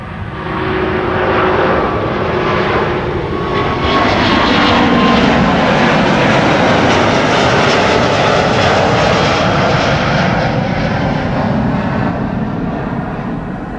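A Singapore Airlines Airbus A350 departing runway 24 at Amsterdam Schiphol, a loud, close, continuous jet engine roar that stays steady and powerful throughout.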